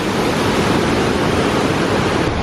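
Waterfall in a Romanian forest along a hiking trail, a loud, steady broadband rush of falling water filling the whole clip, close by and unbroken, with no talk.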